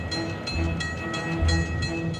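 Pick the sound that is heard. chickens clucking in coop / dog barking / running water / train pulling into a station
train pulling into a station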